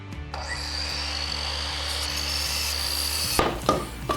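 A miter saw spins up with a loud, steady whine and a low motor hum, then its blade bites into wood near the end with rougher ragged bursts, close and with no talking.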